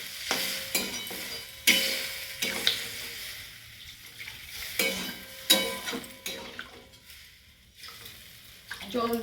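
Cooked-down spice paste for a pomfret curry fries in a pan as water is poured in, giving bursts of sharp sizzling and splashing between quieter moments, with occasional stirring, close by.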